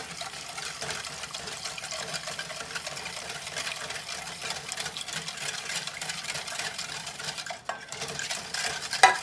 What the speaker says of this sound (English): Whisk it in.